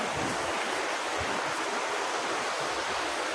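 Steady, broadband wash of sea waves on a wide beach with mountains nearby, continuous and fairly soft with no voices.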